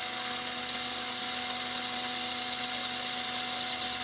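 A steady, loud machining whine from a lathe cutting a large halibut fishing lure at 35 thousandths depth of cut, with an even tone and no talk.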